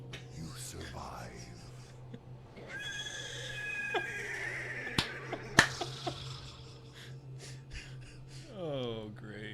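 A horse in a dramatic scene neighs with a rising, wavering whinny near the start and another at the end, between sharp snapping clicks and muffled voices talking.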